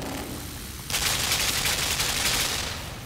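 In LIMBO, a brief quiet gives way to an abrupt, sustained stream of rapid gunfire, dense and loud, that holds steady to the end.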